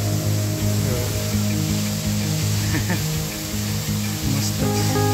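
Water sprays and crashes at a waterfall beside a hilltop temple in Maval, near Pune, a dense, steady rushing roar close by that fills the whole stretch.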